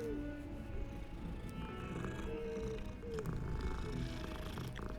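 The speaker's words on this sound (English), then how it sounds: "Another cat." A cat in the video game Hogwarts Legacy purrs in a soft, continuous, low rumble, faint and near, with quiet game ambience around it.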